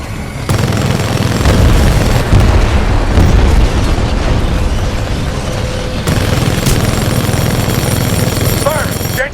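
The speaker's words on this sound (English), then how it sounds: "We are weapons hot. Target's locked. Firing!" Weapons fire and explosions in the video game Titanfall 2, dense continuous booming blasts and rapid gunfire filling the scene loudly, with faint voices briefly under the barrage.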